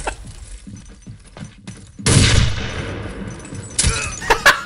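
Gunfire in the World War II shooter Day of Defeat: a sudden loud blast with a lingering rumble, followed by a couple of sharp nearby shots over background game noise.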